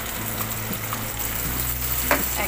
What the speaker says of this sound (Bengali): এবার আমি দিয়ে দিব পেঁয়াজ বাটা।